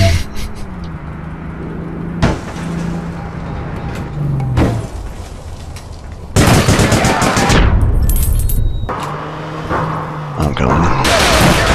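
Bursts of rapid automatic gunfire from a first-person shooter video game, loud and close, broken by short pauses, with players talking over the shots.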